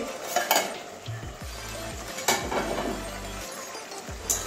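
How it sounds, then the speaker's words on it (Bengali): A lid comes off a pot of spinach, bean and snail curry, with metal clanks and scrapes of utensils against the pot over a soft simmering hiss. "এবারে ঢাকনাটা খুলছি"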